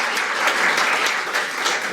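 Steady, dense applause from a forum audience in a National Assembly hall, loud and continuous throughout with no speech over it.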